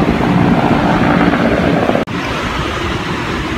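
A helicopter on a beach in Makhachkala, a steady whooshing drone with wind noise, loud and near throughout, with a brief dropout partway through.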